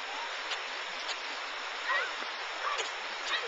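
Hair being shampooed and rinsed in a cold mountain stream, with a constant close rush of flowing water and faint splashes, while a few high chirps cut in.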